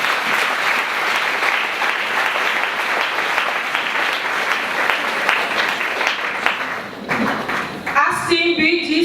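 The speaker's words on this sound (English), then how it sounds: "Let's give a round of applause to her." An audience breaks into loud, sustained applause, a thick steady wash of clapping close by, ending with a brief burst of music-like tones at the very end.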